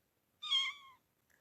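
A cat gives a single clear, close meow lasting about half a second in an otherwise silent indoor room, followed by a faint trailing sound.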